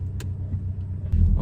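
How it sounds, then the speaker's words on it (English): A Volkswagen Golf GTI Clubsport engine cranks and catches, its low rumble swelling loud near the end after a quiet idle hum. "let's get the car started"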